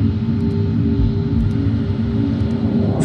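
Transat flight 236 airliner in flight, a loud, steady low cabin rumble of engines and airflow that stays constant throughout.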